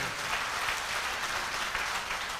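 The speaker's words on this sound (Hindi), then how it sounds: "एक बार जोरदार तालियां ऐसे ग्रेट मेंटर के लिए" Applause from an audience at a Modicare business event, honouring a mentor: dense, steady clapping from many hands throughout, moderately loud and without talk.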